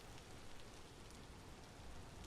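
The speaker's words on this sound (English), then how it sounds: "Very common rainfall." Steady, even rainfall in the survival game Vintage Story hisses across the whole stretch with a soft patter of drops, with no thunder and no voices.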